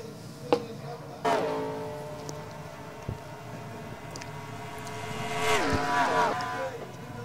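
Race cars in the NASCAR Racing 2003 video game drone past in a steady engine whine that swells and bends in pitch as cars pass, with a few sharp clicks and no voices.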